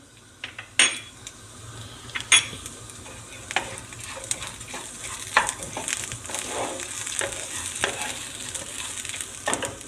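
Rice roasts in a pan for a fresh fava bean salad, with a low sizzle broken by intermittent scrapes and clinks of a spoon against the metal, close and unaccompanied by speech.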